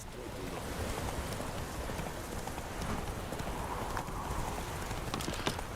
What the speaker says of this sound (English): We're just taking a horse.